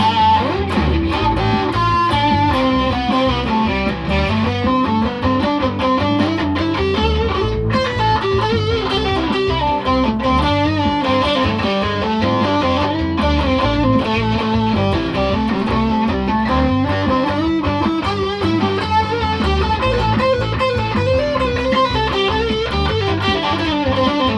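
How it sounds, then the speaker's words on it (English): An electric guitar with a humbucker pickup runs through a high-gain fuzz pedal, playing heavily distorted chords and riffs in a dense, loud, continuous wash with no pauses and no voices. "More distortion, high fuzz pedal."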